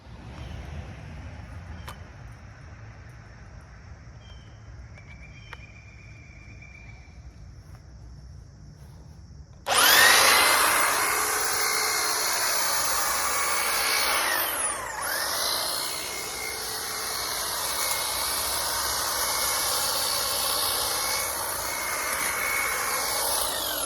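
A cheap $50 electric hedge trimmer starts abruptly partway through and keeps up a loud, steady buzzing whine while cutting hedges outdoors, its pitch dipping briefly mid-run, after a quiet stretch at the start.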